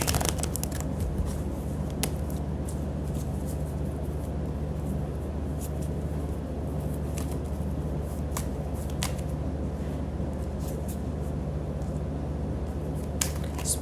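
A deck of Witch's Tarot cards being shuffled over and over, a close, steady riffling rustle with crisp flicks throughout, no talking.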